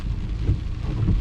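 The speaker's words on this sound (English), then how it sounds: "Here comes the rain." Rain begins falling as a soft, steady hiss with low rumbling underneath, faint and close, with no voices.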